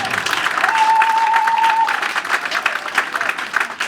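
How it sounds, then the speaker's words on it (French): Audience applauding steadily at a church charity festival at St Ambroise parish in Cocody Angré, a broad wash of clapping that carries on for several seconds with a thin sustained tone over the start. "Et on applaudit."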